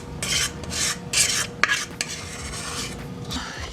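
A spatula scrapes and smooths chocolate chip batter across a pan in repeated close rasping strokes, with an occasional light metallic tap and no speech.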